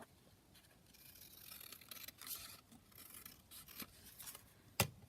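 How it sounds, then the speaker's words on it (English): Scissors snip along the edge of a paper page for a junk journal, a run of quiet, close cuts and rustles ending in one sharper snip. "So I'm just going to trim this edge down a little bit."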